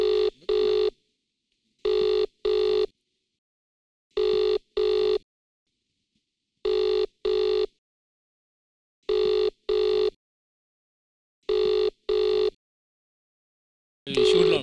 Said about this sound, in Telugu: చరణ్ అన్న కాలింగ్